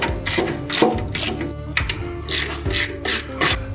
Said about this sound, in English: Yeah, we'll be with the quarter ratchet.